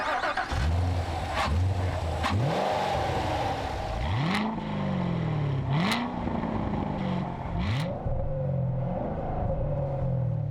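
A 2014 Chevrolet Corvette Stingray with a small-block V8 driving hard, repeated rising revs through gear changes, loud and close with a steady engine roar throughout.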